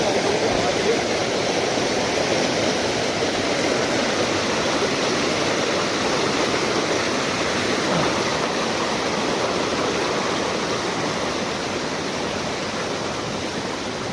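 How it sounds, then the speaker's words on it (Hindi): A fast-flowing mountain stream crossing a rough path to a temple rushes loudly and continuously, a close, unbroken roar of churning water that holds steady throughout. "पानी का बहाव बहुत तेज है"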